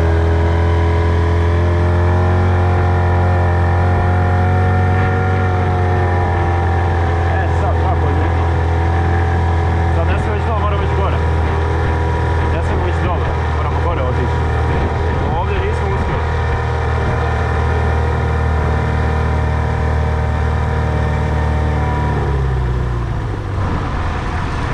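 Tohatsu 25 outboard motor running steadily on a small boat on the Una river, a loud continuous droning engine hum with harmonic whine throughout, easing down near the end.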